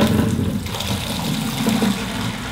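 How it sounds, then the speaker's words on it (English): Water drains out of a fiddler crab tank through an opened valve underneath, a loud, close, continuous gushing and trickling rush with no talk. "I'm gonna go ahead and hit the valve underneath and let this water drain out"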